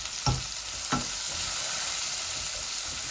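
Onions sizzling in a hot pan of oil while a fish and radish curry is cooked, a steady bright crackle and hiss with a couple of sharp stirring scrapes near the start, close up and without any talking.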